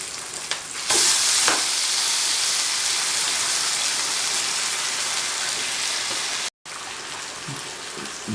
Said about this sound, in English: do this every 30 seconds until the fish is completely fried